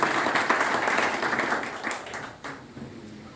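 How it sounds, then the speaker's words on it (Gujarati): A crowd at a village political rally applauds, a dense burst of clapping that is strongest at the start and gradually thins and fades toward the end. "જોરદાર તાળીઓના ગગડાટથી સ્વાગત કરીએ"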